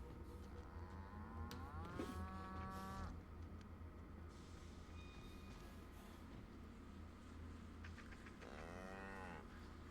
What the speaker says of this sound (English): Woolly cow.